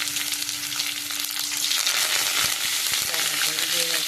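Garlic, mustard seeds and cumin fry in hot oil, a bright continuous sizzle with a few soft clicks and pops near the end, close and steady with no talk.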